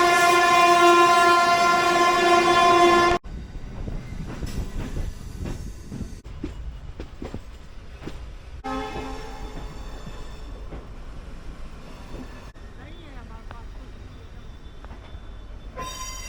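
A 38034 Shalimar local train in Kolkata sounds a loud, sustained horn for about three seconds, then rolls on with a steady rumble and rattle of the coaches, with faint clatter and brief squeals along the run.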